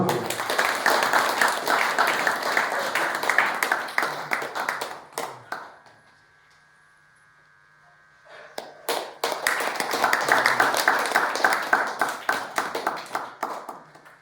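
A church congregation at a St. Lawrence novena Mass applauds in two sustained bursts of many hands clapping, loud and close, separated by a short quiet pause with a faint hum.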